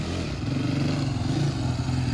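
An ATV engine revs loud and close while the quad spins donuts, a continuous throaty drone with slight pulsing as the throttle is held.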